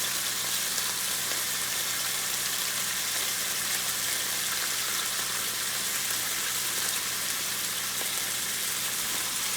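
Beef pieces browning in a hot pan for Irish Guinness stew, a steady close sizzle and crackle running evenly throughout with no talk.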